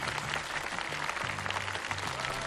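Studio audience applause at a televised Peking opera talent contest, a continuous wash of clapping from many people with faint tones underneath, moderately distant and without speech.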